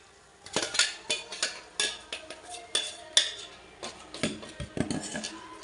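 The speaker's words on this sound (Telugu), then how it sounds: "ఇలా బాగా మిక్స్ అయ్యేలాగా ఇలా కలుపుకుంటే మన చట్నీ రెడీ." A spoon stirs and scrapes through peanut chutney in a bowl, giving close, repeated clinks and scrapes in a steady stirring rhythm, with no talk.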